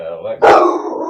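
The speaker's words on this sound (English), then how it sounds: "Is that a dog?" A pet dog barks once, loud and sharp, in a home during a video call, cutting across a person's greeting.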